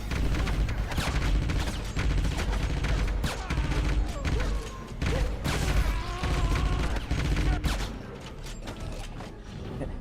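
A mounted gun fires in the video game Wolfenstein (2009), a dense, continuous mechanical rattle of gunfire mixed with clanking game effects, loud and sustained throughout.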